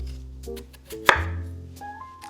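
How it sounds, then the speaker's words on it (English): A knife chops potato into small cubes on a cutting board, giving a single crisp close chop amid quiet kitchen hum. "For the potato, I'm gonna just cut it into smaller cubes so that it has a chance to boil and get soft."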